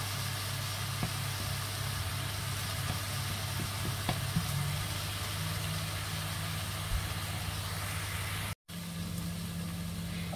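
Steady sizzling of a poultry carcass browning in a pan, a continuous crackling hiss with a low hum underneath and a brief dropout near the end.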